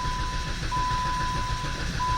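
A 2011 Dodge Caliber with a 2.0 engine cranks without starting, a steady low churning starter drone that never catches, with a thin continuous high beep running over it.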